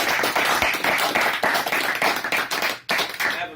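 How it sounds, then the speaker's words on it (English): Steady close applause from a small group at a SMED Kaizen summary meeting, with individual hand claps clearly audible and a brief dip near the end before the clapping resumes. "One big round of applause for the group"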